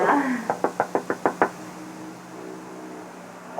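Knocking on a door at a backstage venue, a run of seven sharp, evenly spaced raps, fairly close and loud, followed by quiet room tone with no talk.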